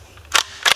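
AEA Megalodon 457 pump-action air rifle fired at steel targets, two sharp, close cracks about a third of a second apart, with nothing else heard.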